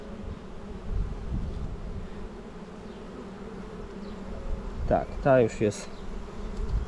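Steady buzzing from many honeybees at an open hive fills the background, with a person speaking briefly in Polish near the end.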